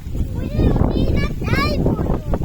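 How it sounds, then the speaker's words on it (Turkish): Wind buffets the microphone with a loud, continuous rumble in a park while a voice and other voices are heard faintly through it. "çok rüzgar var değil mi Batuhan bugün?"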